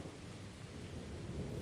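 A dense, steady wash of heavy rain with low thunder rumbling underneath, continuous and fairly loud over a short stretch with no talking.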